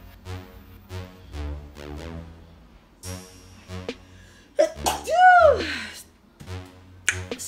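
A woman sneezes sharply while doing her makeup, one loud sudden burst following a stretch of soft tapping and quiet background sounds, with brief clicks after.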